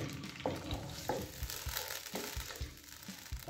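Tomatoes go into a pan of frying chana masala and get mashed, giving soft sizzling with repeated dull pressing and crushing thuds at an uneven rhythm, fairly quiet and close.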